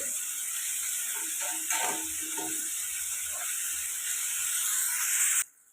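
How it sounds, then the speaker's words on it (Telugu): Onions and curry leaves with a little salt fry in a pan for egg curry, giving a soft, steady sizzle and hiss with a few faint stirring clinks before it cuts off abruptly. "కరివేపాకు ఆనియన్స్ అయితే ఇలా ఫ్రై అవుతున్నాయి కదండి"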